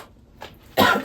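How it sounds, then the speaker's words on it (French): Two short coughs from someone with a cold, close and fairly loud, the second burst stronger and longer. "je risque de tousser pas mal parce que j'ai encore un bon petit rhume là"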